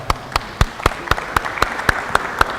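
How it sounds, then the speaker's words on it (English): A group of players is given a hand with rhythmic, evenly spaced claps landing about four times a second, loud and close throughout. "Give these guys a hand out here."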